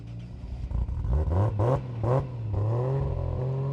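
A Nissan Nismo car with an aftermarket exhaust and a roll cage starts up at a cars and coffee meet, cranking and then catching into a rough, throaty idle that blips once or twice and settles into a steady rumble, close by.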